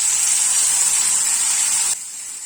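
Cashew paste and onion paste hit hot oil tempered with a bay leaf and a whole dried red chilli, giving a loud, steady, hissing sizzle that suddenly drops to a softer simmer near the end.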